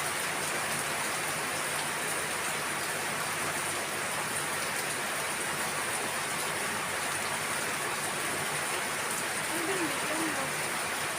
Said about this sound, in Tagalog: Ipakinggan ko na yung ulan.